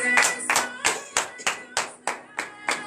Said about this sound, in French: Donnez l'acclamation à l'Éternel.